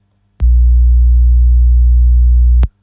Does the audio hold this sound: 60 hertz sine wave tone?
yes